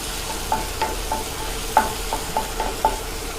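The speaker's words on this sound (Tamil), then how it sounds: "பூண்டு போட்டு நல்லா பூண்டு நல்லா பச்சை வாசம் போகிற வரைக்கும் நம்ம வதக்கிக்கலாம்" Garlic sautés in a pan with a low, steady sizzle, broken by about eight regular scraping stirs of a spatula against the metal; close and alone, with no talking.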